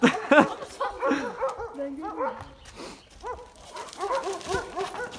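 A pit bull or Dogo Argentino barks and yips in short excited bursts, close by on a street, with people talking and calling over it.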